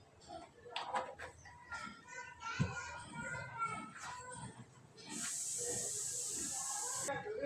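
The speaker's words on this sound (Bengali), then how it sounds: "আমি প্রথমে ভেটকি মাছগুলো ভেজে নিচ্ছি।" Bhetki fish drop into hot mustard oil in a wok and set off a loud, steady sizzling hiss that runs to the end, after a stretch of background voices and household noise.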